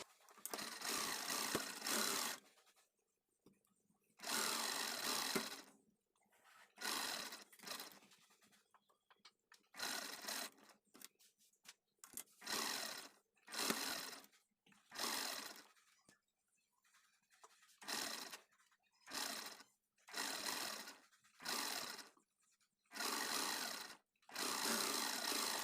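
A sewing machine stitches along the folded edge of a blouse piece in repeated bursts of rapid mechanical chatter, each run lasting a few seconds with short pauses between, fairly quiet and close.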